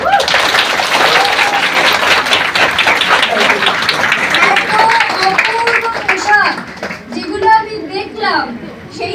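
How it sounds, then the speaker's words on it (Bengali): Loud audience applause at a student Puja fashion event in Salt Lake fills most of the stretch, dense and close with mixed voices and children's chatter over it, then gives way to talk. "হাততালিতে ফেটে পড়ুন একবার জোরে"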